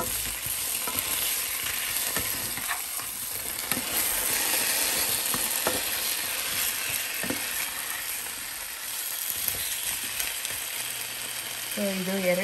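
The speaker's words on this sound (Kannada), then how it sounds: "ಚೆನ್ನಾಗಿ ಕ್ರಿಸ್ಪಿಯಾಗಿ ಬ್ರೌನ್ ಕಲರ್, ಗೋಲ್ಡನ್ ಕಲರ್ ಆಗೋ ತನಕ ಇದನ್ನು ಫ್ರೈ ಮಾಡೋಕ್ಕಿಡೋಣ" Potatoes seasoned with pepper powder fry in a pan over a medium flame, giving a continuous loud hissing sizzle with intermittent clicks and scraping stirs throughout.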